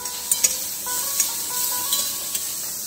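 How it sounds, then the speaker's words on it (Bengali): Peanuts frying in a pan in a home kitchen: a steady close sizzle with several sharp clicks and scrapes as the nuts are stirred, no voices. "বাদাম ভাজছে"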